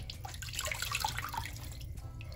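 Water running and splashing while apple cider vinegar is rinsed out of year-old locs, a steady close wet wash with small drips, no voices.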